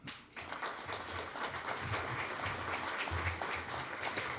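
Steady, dense applause from a crowd at an awards ceremony, many hands clapping together without a break for several seconds.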